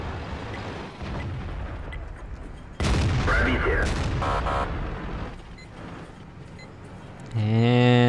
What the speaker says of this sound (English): Betcher is going to shoot the IS-7 directly in the ass